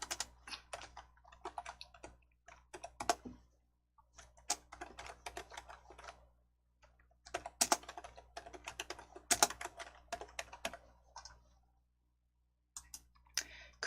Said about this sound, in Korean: 크기 클릭하셔서 17포인트 입력하시고 엔터